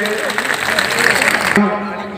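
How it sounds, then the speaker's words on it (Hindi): Dense crowd applause at a swearing-in ceremony in Mau, many hands clapping, mixed with a voice speaking over it, then cutting off abruptly into quieter background near the end. "तालियां जोरदार बजा दीजिए।"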